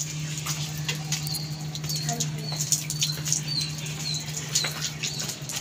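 Pigeons take flight overhead with quick, papery wingbeats fluttering in irregular bursts, moderately near, with a few high chirps over a low steady hum.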